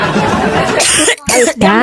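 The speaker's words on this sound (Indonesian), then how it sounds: "batuk dia" A person coughs after drinking, a couple of rough bursts close to the mic amid lively conversation, with brief pauses between coughs.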